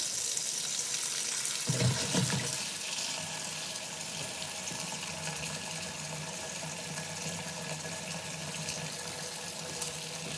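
Grapes get rinsed under a running kitchen tap in water mixed with baking soda, making a steady, bright rushing stream with a brief splashy clatter near the start as the fruit is moved about.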